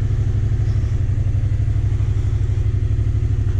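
A motorcycle engine runs close by at a steady idle, a loud, even low throb with a slight rhythmic pulse and no voices.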